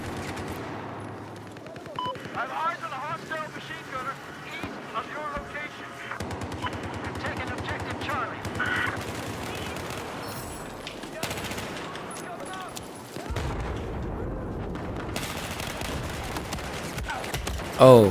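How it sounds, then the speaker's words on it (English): Rapid bursts of video game gunfire, machine-gun fire mixed with single shots, keep going loud and dense for the whole stretch, with a short pause and a sharp burst at the end. "Missed all my shots."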